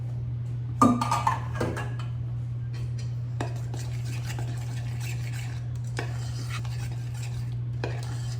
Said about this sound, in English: I'm just gonna stir this for a minute to let it cool